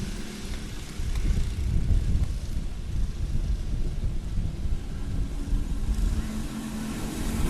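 Wind buffets the microphone at a go-kart race in a continuous low roar and rumble, steady and loud throughout, with no voices.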